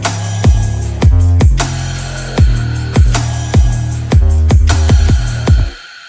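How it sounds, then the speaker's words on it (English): An electronic drum beat from a song's drop thumps along with deep kicks and bright snare or clap hits in a steady, repeating pattern, loud and alone with no talking, fading out at the close. "We have some drums and they all sound like this."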